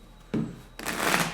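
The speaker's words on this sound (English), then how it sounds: "Let's get two more shuffles" A deck of tarot cards being shuffled at close range, with two bursts of riffling rustle, a short one followed by a longer, louder stretch.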